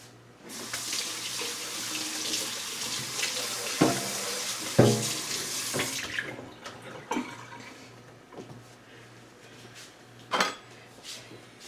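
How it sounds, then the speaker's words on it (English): Hands rinsed under a running kitchen tap, a steady close gush of water that breaks into splashes and a few clinks of dishes before the flow stops, followed by scattered drips and knocks; no one talks. "Let me rinse my hands."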